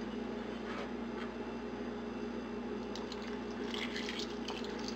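Water is poured into a cooking pot holding fish seasoned with salt and whole peppercorns, giving a faint, steady splashing and trickling over a constant low background hum.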